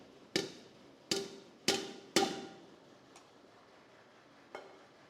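A metal ladle pats drained rice down into a pot of chicken biryani, with four crisp, ringing taps in quick succession followed by two much lighter ones, close and quiet with no talking.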